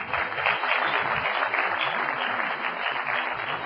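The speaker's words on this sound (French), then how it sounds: "Je vous demande de l'applaudir." Steady audience applause from a full hall at an evening event presenting the Menara 2002 web portal, a dense wash of clapping that holds loud and even throughout with no voices over it.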